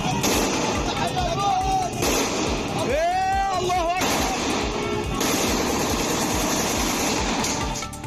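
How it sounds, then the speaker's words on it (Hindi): Rapid bursts of celebratory gunfire in a street crackle continuously, dense and loud, with a voice speaking over the shooting at times. "लोगों ने सड़क पर निकलकर खुशी में"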